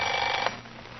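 A bright electric alarm clock bell rings loudly for about half a second, then fades into a lingering hum.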